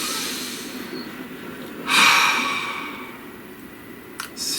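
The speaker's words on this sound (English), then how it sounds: "Please take a nice deep breath." A single deep breath drawn in near a calm, hushed room, rising sharply and easing off over about two seconds, with a faint soft exhale near the end.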